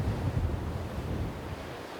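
Sea wind gusting across a fishing port, a dense rushing roar buffeting the microphone close up for two seconds, with faint low surf underneath and no voices.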